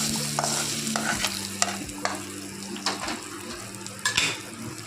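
Tempering being stirred into tomato chutney in a home kitchen, a soft steady sizzle with repeated scraping stirs and light clinks over a low background hum, close and fairly quiet, with no talking.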